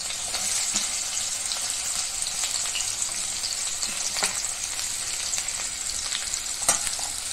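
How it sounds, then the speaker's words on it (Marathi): Long-sliced onion with bay leaves frying in hot oil, a steady close sizzle with occasional stirring scrapes and a sharp clink near the end, no voices. "तमालपत्र जरा परतली की त्यामध्ये हा आपण कांदा लांब चिरून घेतलेला"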